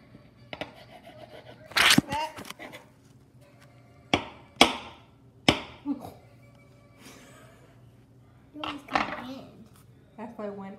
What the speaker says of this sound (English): Now you take the knife and you cut it.